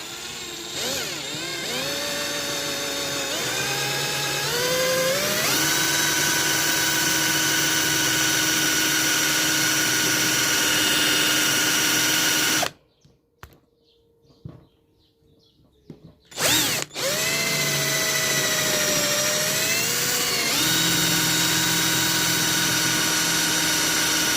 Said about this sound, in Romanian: Am revenit cu un burghiu de 13 mai mare și o să încep să găuresc nuca.